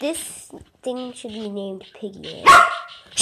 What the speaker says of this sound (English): that's just my dog barking